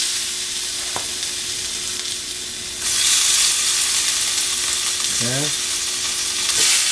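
A veggie fritter mixture drops into hot avocado oil, bringing a steady sizzle that swells louder midway, with a few clinks of a spoon on the pan; a voice speaks briefly.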